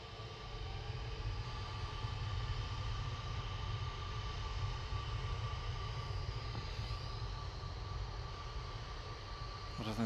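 An EasyJet airliner at Manchester Airport gives off a faint, distant, steady jet rumble and hum that stays level throughout, with no talking.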